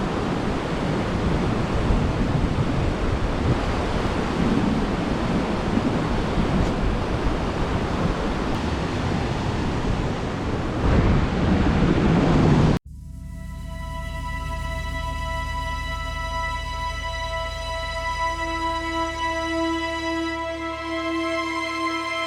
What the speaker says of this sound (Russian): Раскаты грома и грохот горной реки в ущелье.